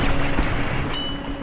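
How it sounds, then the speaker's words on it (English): Multi-plas rifle from Fallout: New Vegas, a shotgun-like plasma weapon firing three green energy bolts, discharges in a short, punchy burst with a bright electronic tail, heard alone and close. "the multi-plas rifle, which is a shotgun-like plasma weapon that fires 3 green bolts of energy"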